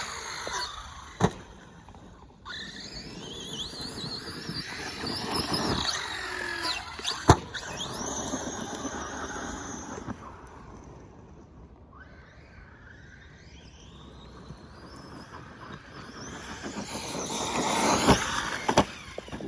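A Redcat Valkyrie MT RC monster truck runs with a whining electric motor that rises and falls as it accelerates, with sharp knocks and clatters from bumps and tumbles, sometimes close and sometimes farther off.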